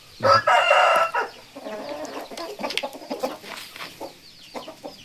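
A rooster crows loudly up close, followed by a scatter of young gamecock chickens clucking and peeping in short, uneven bursts.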